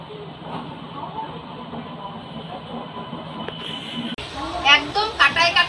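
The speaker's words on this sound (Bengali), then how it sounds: "একদম কাটায় কাটায় 4:10 আর ট্রেন একদম সঠিক সময়ে ছেড়ে দিল।" A passenger train pulls out of Howrah station bound for Kanyakumari, giving a steady low rumble and hiss of rolling stock, with a brief clank near the middle and louder rattling and squealing toward the end.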